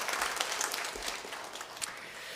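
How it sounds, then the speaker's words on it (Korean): Welcoming applause from a congregation during a Sunday church service, faint and distant, with soft scattered claps over room noise. "환영의 박수로 격려하시겠습니다"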